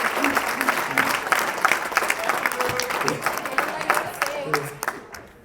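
An audience claps in a full burst of applause for Mark, dense and sustained before tapering off at the end, with a voice briefly audible under it.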